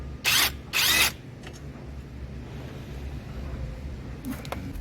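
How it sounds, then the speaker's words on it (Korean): An impact wrench loosens a 19 mm caliper bracket bolt during a brake disc and pad change. It fires in two short, loud, close buzzing bursts, then the sound drops to quiet background. "캘리퍼 브라켓 19mm 고정 볼트가 잘 안 풀려서 롱 복스대를 이용해 어느 정도 풀어준 뒤 임팩으로 풀어주었습니다"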